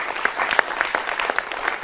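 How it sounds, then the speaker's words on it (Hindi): Enthusiastic audience applause greets a guest at a televised Rajasthan election poll discussion, a dense burst of clapping with sharper individual claps standing out, fairly close and sustained for under two seconds with no talk over it. "जोरदार तालियों से स्वागत कीजिए"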